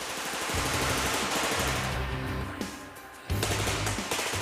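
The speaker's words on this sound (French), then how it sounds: "Un échange de coups de feu intense a lieu." Heavy, sustained gunfire with rapid bursts and overlapping shots, loud and continuous, briefly easing before erupting again.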